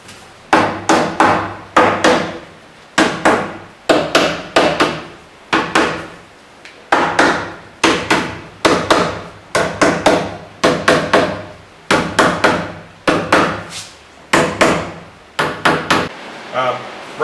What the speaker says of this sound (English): go over the staples gently with a hammer to make sure they're set flush